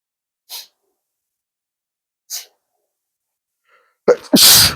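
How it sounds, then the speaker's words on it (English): Two short, sharp sneezes sound a couple of seconds apart in near silence, followed by a louder burst of breathy noise and a nose-clearing sound close to the microphone. "my nose started itching and it just made me sneeze"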